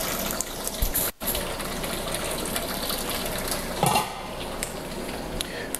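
Water trickling and gushing steadily into a homebrew mash tun from above, dripping onto the grain bed during mashing in a stir-versus-no-stir brewing experiment, a continuous close splashing flow with a brief dropout and one louder surge.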